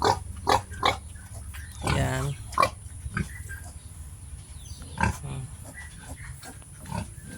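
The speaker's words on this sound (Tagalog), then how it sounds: "Ito yung aking mag-inang baboy ano mo." Pigs on a backyard farm, a sow and her piglet, grunt in short irregular bursts at close range, with a longer squealing burst midway and occasional talk among the animal sounds.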